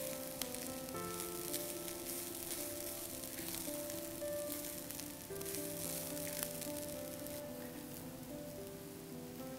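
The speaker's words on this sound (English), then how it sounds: "fry the coconut till it goes brown" Grated coconut frying in a pan for a Goan prawn alsande, a steady, close sizzle that holds evenly throughout with faint scraping under it and no talking.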